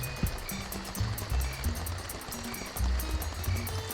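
Rushing waterfall in The Emperor's New Groove video game, a steady broadband roar of falling water with rhythmic game sound effects and a few low thumps layered on top, with no speech.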